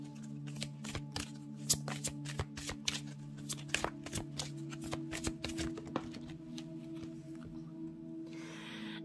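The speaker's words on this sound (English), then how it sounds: "Let's get another shuffle from this deck." A deck of cards being riffled repeatedly, crisp rapid flutters and snaps in bursts over a steady low hum, close up, no voices.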